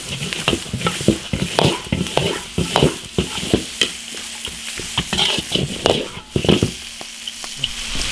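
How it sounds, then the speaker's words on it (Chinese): Dried chilies and aromatics stir-fried in an iron wok: a steady sizzle broken by frequent sharp scrapes and clacks of the spatula against the metal, close and continuous throughout. "干辣椒， 炒香了下配料。"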